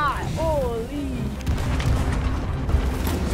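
A cannonball strikes a ship in the Sea of Thieves video game, with a deep, rumbling boom and lingering low crashing noise. An excited voice is heard over it.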